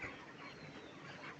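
Broiler chickens about a month old cluck together in a crowded poultry farm shed, a faint continuous chorus of overlapping clucks and murmurs with no talk.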